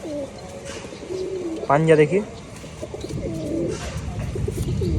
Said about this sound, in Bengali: খুব অ্যাগ্রেসিভ একটা নর পায়রা